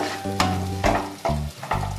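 Spices frying in peanut oil are stirred in a pan, with several distinct scraping strokes of the spoon over a steady sizzle at close range, and no voices.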